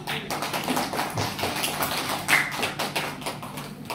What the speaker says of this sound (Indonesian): Kita beri aplaus dulu untuk Bapak.